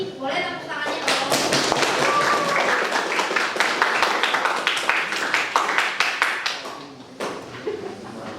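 A classroom full of people claps together during a microteaching practice session, a dense, steady round of applause lasting several seconds before tapering off near the end.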